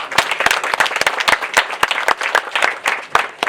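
Audience applause at a street-naming ceremony honoring Botswana's founding president Sir Seretse Khama, dense steady clapping from a crowd sustained throughout, loud and close.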